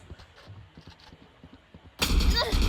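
Gunfire in the video game Valorant: a run of quick, faint shots in a rapid rhythm, then a sudden loud burst of noise near the end.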